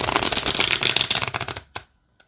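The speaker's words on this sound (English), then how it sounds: "let's see how this shuffles" A Light Seer's pocket tarot deck is riffled by hand, giving a rapid, close burst of papery card flutter that ends in a couple of soft taps before silence.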